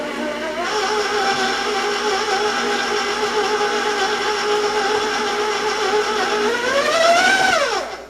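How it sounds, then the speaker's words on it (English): Electric stand mixer whirs steadily on low speed, blending dry ingredients like salt for oatmeal raisin breakfast cakes; a constant loud motor hum with harmonic whine that rises and then drops as it slows near the end. "just mix all that dry together on low"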